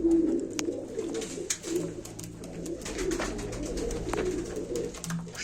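Pigeons coo softly and repeatedly at a live pigeon auction, their low murmuring calls coming close and steady against faint background clatter and ambient noise.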